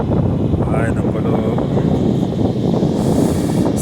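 Cold wind blows across a wide beach at Saint Jean de Monts, a loud steady rumble of wind buffeting the microphone that lasts throughout, with a brief voice faintly underneath.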